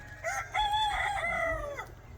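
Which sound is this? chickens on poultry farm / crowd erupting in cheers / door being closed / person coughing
chickens on poultry farm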